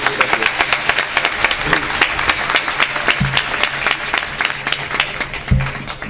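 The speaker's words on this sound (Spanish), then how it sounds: "Un aplauso para él." An audience applauds a pension-rights campaigner from the Platform in Defense of Public Pensions in Seville, with steady, dense clapping running throughout and a few sharper bumps along the way.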